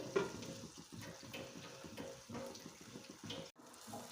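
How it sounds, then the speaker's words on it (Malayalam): Water pours into a pan of prawn roast, a steady faint splashing and trickling over soft sizzling, running continuously before cutting off briefly near the end. "ഒന്ന് യോജിച്ച് വരാൻ വേണ്ടിയിട്ട് കുറച്ച് വെള്ളം നമ്മൾ ഇതിലേക്ക് ആഡ് ചെയ്ത് കൊടുക്കണം"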